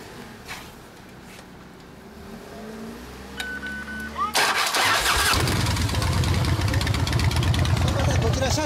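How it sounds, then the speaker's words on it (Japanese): A Harley-Davidson Softail Evolution engine cranks and fires into a loud, throbbing, lumpy idle that carries on steadily after a quieter stretch of background chatter. "エンジン音聞かせてもらえますか"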